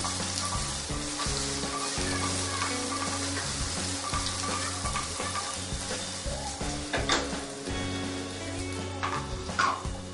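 Muthia, steamed Gujarati dumplings, sizzle in a tempering of mustard seeds and cumin while they are tossed, a close, steady frying hiss with light stirring and pan scrapes, with a low hum underneath.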